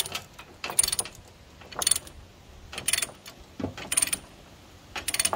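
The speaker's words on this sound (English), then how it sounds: "I'll start tightening my other load binder, ratcheting load binder" A ratcheting load binder cranks a chain tight while a mini excavator is secured, producing about five separate bursts of sharp metallic ratchet clicks with short pauses between them, close and loud.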